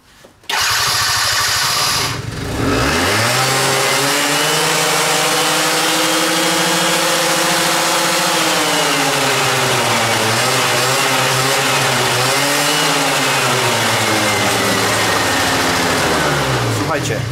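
A Quantum RS car engine with a starting fault cranks briefly, catches and settles into a loud idle, then is revved up and down several times nearby.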